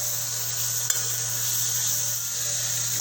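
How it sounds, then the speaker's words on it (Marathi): Tomatoes sautéing in a pan over onions for Malvani mushroom curry give a steady, close sizzle, with one small clink of a stirring utensil near the start. "टॅमॅटो टाकते चांगला परतून घेऊ"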